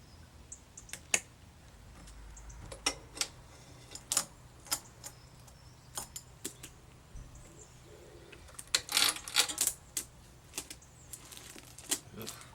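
Small metal clicks and taps as a split link is prised off a Yamaha SR125 motorcycle chain, scattered sharp ticks in bursts, close and fairly quiet, no talking.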